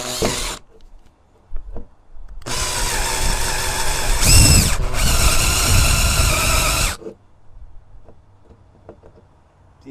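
Power drill boring through the floor tunnel of a 1971 Camaro during transmission hump removal, a loud steady whine and grinding lasting about four seconds, with a brief clunk midway and quieter handling noises before and after.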